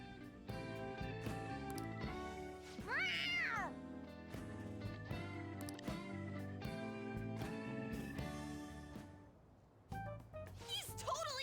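In Persona 5 Royal, a cat's meow rises over game music with a rising-and-falling wail, while characters' voices talk throughout the scene.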